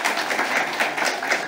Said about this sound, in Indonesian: Boleh tepuk tangan untuk Pak Wisnu.